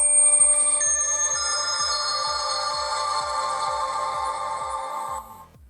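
An Elephone P6000 smartphone powering on plays a bright melodic startup chime, sustained tones with a steady low rhythmic pulse beneath, running several seconds at even loudness before cutting off.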